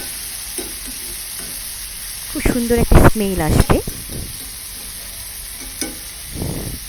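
Banana blossom crackles and sizzles in a pan with soft stirring scrapes, while a person talks over the cooking in the middle.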